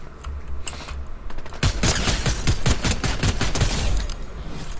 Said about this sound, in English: What are you shooting at? Oh, you're shooting at that guy?